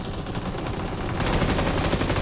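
Rapid automatic gunfire in PUBG Mobile, dense and continuous bursts that grow louder partway through, with no talking.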